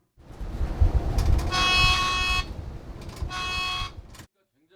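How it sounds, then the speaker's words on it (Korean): Alarm from an AI pedestrian-detection camera on a city bus turning right: two loud sustained electronic tones with harmonics, each about a second long, over rumbling bus engine and road noise. "버스가 우회전할 때 보행자를 인식한 AI 감지 카메라가 즉시 경보음을 내고"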